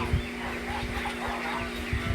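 A red rooster clucks and murmurs close by among other chickens, short low calls over a busy outdoor background with a steady hum.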